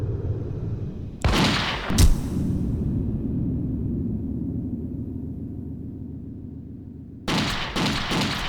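Gunfire in the Yakuza 4 video game: two sharp bursts of shots early, then a long rumbling hush, followed by another rapid cluster of loud, close shots near the end.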